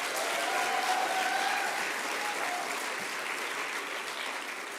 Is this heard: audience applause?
yes